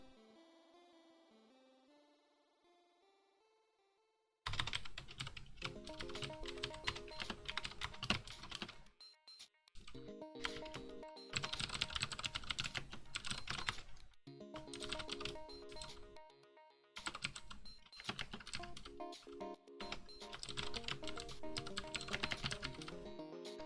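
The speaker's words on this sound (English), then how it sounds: "I'll actually make this so you can see what I'm typing." Typing on a computer keyboard, the MXKeyboard rev 2, in a quiet room: after a soft tonal hum, dense bursts of rapid key clicks come and go with short pauses, close and clear, with no talking.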